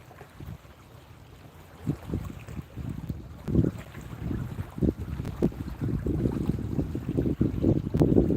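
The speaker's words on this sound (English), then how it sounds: "The wind keeps making me think they're catfish hitting it" Wind gusting across a flooded lake cove while fishing for catfish from a boat, a steady low rumble of microphone buffeting that swells and pulses irregularly, growing louder toward the end, with no talking.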